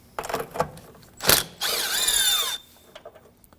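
A nut on the battery hold-down bracket of a 2016-2022 Honda Pilot is loosened with a power tool, giving a short sharp burst, then a sustained whirring run of about a second, followed by quieter clicks.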